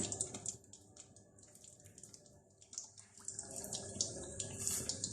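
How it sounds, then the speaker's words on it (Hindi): Marinated chicken pieces fry in hot oil in a kadai, giving a steady, fairly quiet sizzle and crackle that builds slightly toward the end, with no talking. "ये एक एक पीस इसमें डालेंगे और इसको फ्राई कर लेते हैं"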